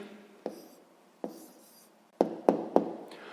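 A pen writes down the answer to a sixth-grade math problem, heard as a few sharp taps and short scratches spaced across a quiet background.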